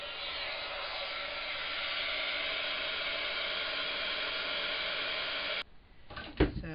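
A heat tool blows steadily and loudly while heat-setting embossing powder on a Christmas card background, a continuous airy whoosh that cuts off abruptly near the end, followed by brief faint handling noises.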